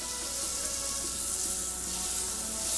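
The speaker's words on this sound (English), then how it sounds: "first thing is we're gonna add about a tablespoon of butter" Butter sizzles in a hot pan, a steady, close, continuous crackling hiss that holds evenly throughout with no voices.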